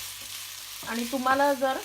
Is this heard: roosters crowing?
no